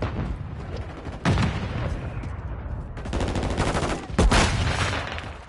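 Stun grenade in Call of Duty, with loud bursts of gunfire and sharp blasts over a rumbling battlefield roar, including one strong bang near the end.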